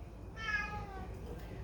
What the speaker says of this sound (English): I don't know if you heard that cat meowing.